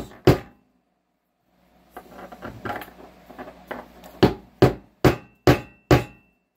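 A hammer strikes extremely hard black walnuts on a hard floor, with a single sharp crack, then a burst of smaller knocks and rattles, and finally five loud evenly spaced blows.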